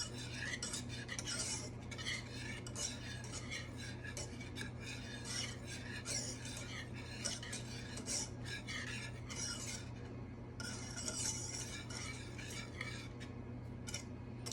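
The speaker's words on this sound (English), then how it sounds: "Gently stirring it, because that's what they want." A spoon stirs brown sugar penuche fudge with melting butter in a pot, making continuous gentle scraping and rasping strokes against the metal, close and quiet over a low steady hum, with no talking.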